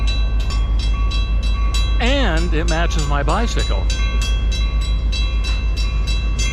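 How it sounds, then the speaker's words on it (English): A Royal Gorge Canyon train rolling past nearby, a steady rumble with a regular rhythmic clatter throughout, while someone speaks over it briefly. "This train goes up the Royal Gorge Canyon, which is stunning."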